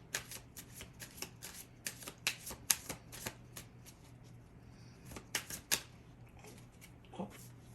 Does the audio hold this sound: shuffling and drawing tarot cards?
yes